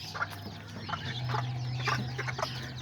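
Chickens and newly hatched chicks of Kikiriki's Azteca breed in a coop, giving soft, scattered clucks and peeps over a steady low hum, fairly faint and close.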